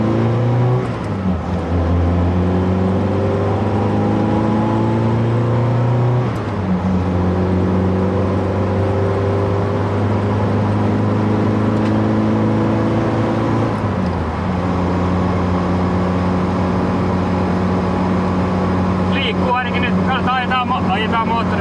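A white Lada car driving while its engine warms up, a steady, close motor drone with shifting harmonic tones as it revs and changes gear, continuous throughout without talk.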